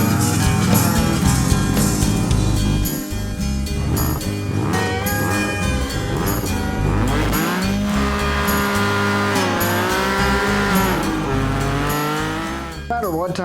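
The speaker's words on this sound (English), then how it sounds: "let's go do some burnouts with Lynn's bike" A custom Can-Am Spyder F3 three-wheeler does burnouts at Bikes Blues and BBQ: a loud, sustained engine roar with rising and falling revs and squealing tires, continuous and close for the whole stretch.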